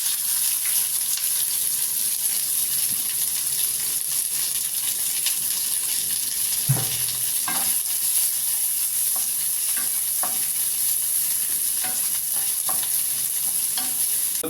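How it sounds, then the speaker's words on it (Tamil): Chopped onions dropped into hot oil already holding mustard seeds and fenugreek, frying in a pan for a Tamil garlic fish gravy: a steady, loud sizzle with occasional stirring scrapes throughout, no talking. "இப்போ இதில் நறுக்கிற வெங்காயம் போட்டுக்கலாங்க"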